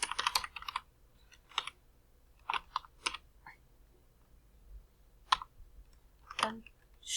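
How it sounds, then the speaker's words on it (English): Code being typed on a computer keyboard: bursts of crisp, close key clicks in uneven clusters with quiet pauses between them and no speech. "So here I'm going to write some code to display a message box."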